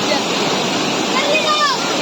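A waterfall in a natural setting roars as a steady, loud broadband rush of falling water, continuous and close throughout, with no talk heard.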